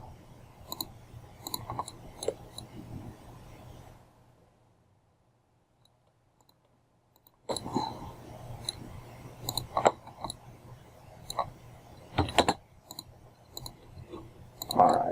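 Scattered mouse clicks while adjusting layers in design software, sharp close taps spread irregularly before and after a few seconds of near silence, with no talk.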